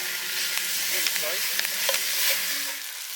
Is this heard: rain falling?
no